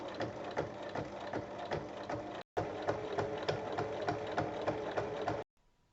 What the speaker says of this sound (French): Je vais maintenant surpiquer au niveau de la couture d'assemblage ici de chaque côté à 1 mm